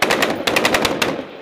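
M240B or M249 machine gun firing a short, loud, close burst of about a dozen rapid shots in two quick strings, the cracks sharp and evenly spaced before cutting off abruptly.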